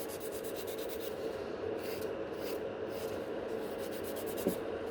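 A file rubs across natural nails to shorten and shape them, with close, steady rasping strokes and no voices.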